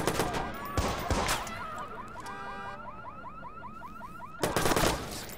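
Gunfire in the Watch Dogs video game, a run of rapid, evenly spaced shots over several seconds with louder bursts near the start and end, all fairly close and loud, with no voices.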